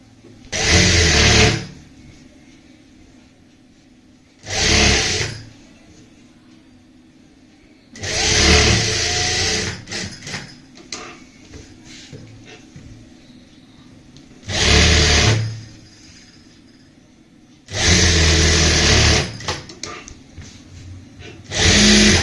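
Several short bursts of a sewing machine stitching lace onto a fabric neckline, each run lasting a second or two with quiet pauses between, fairly loud and close.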